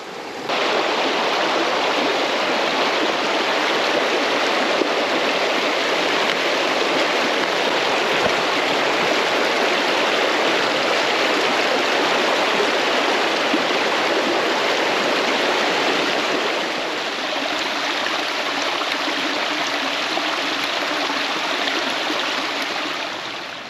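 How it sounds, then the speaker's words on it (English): Two forest streams merging beside a campsite on Alabama's Pinhoti Trail, a steady, full rushing of flowing water close by, continuous and unbroken with no voices. "Beautiful area, 2 streams merged together and the campsite's in between."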